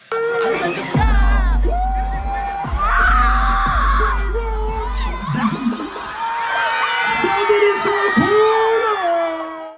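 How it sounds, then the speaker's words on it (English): A dense festival crowd at the front of an Afronation Portugal 2019 concert screams and whoops loudly and continuously close by, with heavy low rumble and shrill voices rising throughout. "You can just hear the people around me screaming."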